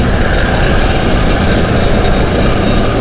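Vespa scooter cruising along the Bali Mandara toll road, its engine a steady, loud broadband drone mixed with wind rush, continuous and close with no talking.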